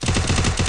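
Rapid gunfire in an online ranked multiplayer shooter, a loud, close burst of several quick shots in steady succession, packed into well under a second.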